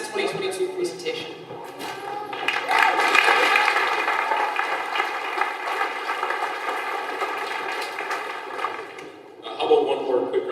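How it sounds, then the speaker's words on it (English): A graduation ceremony crowd in a hall applauds, a dense, sustained wash of clapping that builds after a couple of seconds, holds, then briefly dips near the end before picking up again. "How about one more quick round of applause for Maddie"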